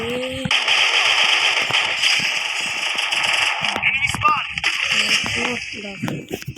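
Rapid gunfire from the Free Fire video game rattles in dense, loud bursts over game effects, while a voice talks over it.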